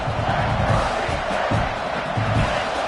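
Crowd cheering in a Madden football game, a broad steady roar of stadium noise that swells slightly at moments.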